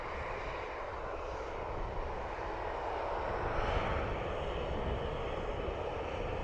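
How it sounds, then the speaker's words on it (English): A Ryanair airliner departs Dublin Airport, its jet engines making a steady, broad distant roar that swells slightly partway through and holds without any voices. "this Ryanair is off to Marseille in France"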